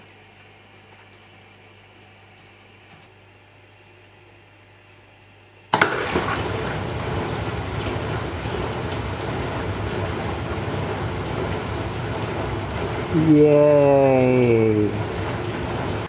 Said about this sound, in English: this is now the filling routine. We'll see if it gets all the way to running the circulating pump